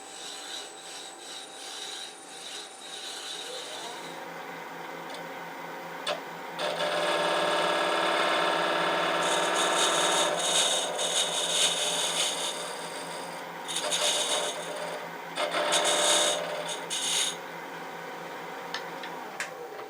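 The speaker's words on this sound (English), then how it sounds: "I use these padded sanding sticks that I make, and these work very well as well." Steady rasping rubbing of padded sanding sticks against a wood-turned box, continuous strokes that swell louder through the middle and again near the end, close up with no talking.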